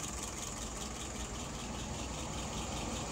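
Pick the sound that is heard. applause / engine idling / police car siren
engine idling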